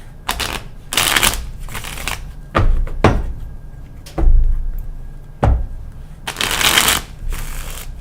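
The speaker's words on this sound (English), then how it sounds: "Nalini, I love watching you shuffle. It's magical. Well, let's do it again." Tarot cards being shuffled in repeated bursts, each a crisp riffling rustle separated by short pauses and soft taps, close and fairly loud.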